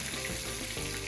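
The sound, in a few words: chicken curry ingredients sizzling while frying in a pan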